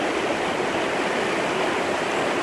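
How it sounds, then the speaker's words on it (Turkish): The Hemşin creek rushes past in a steady, dense wash of flowing water, close and continuous with no pauses or voices. "Yalnız olarak derenin sesini dinliyorum."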